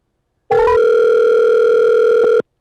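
A phone call tone sounds loudly and steadily for about two seconds after a brief rising chirp, then cuts off abruptly, with no voices.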